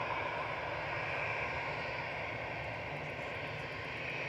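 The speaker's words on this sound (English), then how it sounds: "So next to depart is Aer Lingus Flight 203 back to Dublin." Aer Lingus Airbus A320 Classic, about 20 years old, departing from Manchester Airport on runway 23 left, its engines producing a steady, continuous roar at moderate distance with no voices over it.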